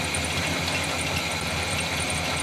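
A 1986 Chevy C30 truck engine with a Quadrajet carburetor idles steadily with a rough, throbbing low rumble and mechanical clatter, loud and close, with no voices.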